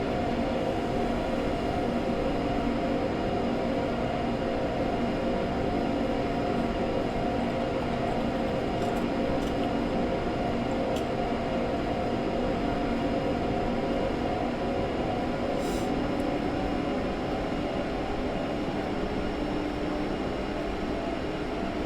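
A train on the Semmeringbahn in Train Simulator runs steadily at about 80 km/h, a continuous droning rumble with tonal motor hum, even and unbroken throughout.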